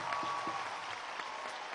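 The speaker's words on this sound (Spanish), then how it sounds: "Un aplauso a Josner." Audience applause at a large government ceremony swearing in secondary-school tutors, a steady dense clapping that fills the whole moment at moderate distance with no speech over it.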